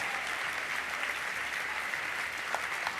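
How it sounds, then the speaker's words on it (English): An audience applauds steadily at a Longines FEI Jumping Nations Cup show jumping event in La Baule, a dense, even wash of clapping from a large crowd. "redoublez d'applaudissements s'il vous plaît"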